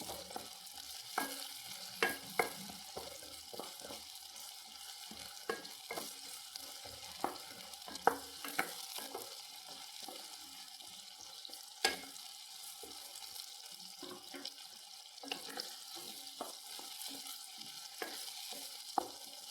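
Small onions (shallots) frying in a pan for pickle, a soft continuous sizzle broken by repeated scraping clicks of a spoon stirring at an uneven rhythm, close and moderately quiet, with no talking.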